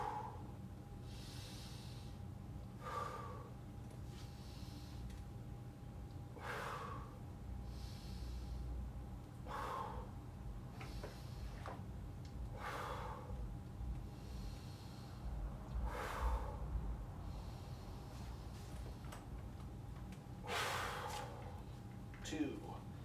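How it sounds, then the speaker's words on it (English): A person does slow, deep breaths as a warm-up exercise, each breath a soft, airy rush repeated at regular intervals of about three seconds, close and steady over a constant low background hum. "A little bit of breathing first. I'm gonna do the 7 breaths right here."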